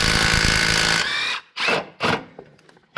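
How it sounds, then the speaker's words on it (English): Cordless impact wrench with a long extension and impact swivel socket working on a 2014 Ford Explorer water pump job, a sustained close rattling run followed by two short bursts, with no talk. "Now I'm using a cordless impact here, long extension and an impact swivel socket."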